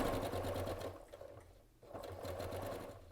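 A sewing machine runs steadily as it stitches nested seams on a scrappy pinwheel quilt block, a close, continuous mechanical whir that pauses briefly in the middle before resuming.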